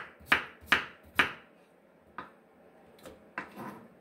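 Knife slicing a cucumber on a cutting board, three crisp, evenly spaced cuts close by, followed by a few softer, more irregular slices.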